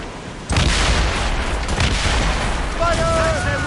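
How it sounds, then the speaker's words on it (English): A naval cannon volley in Assassin's Creed Rogue: a sudden heavy boom of guns firing together, rolling into a sustained thunderous rumble, with shouted voices overlapping near the end. "They're firing a volley!"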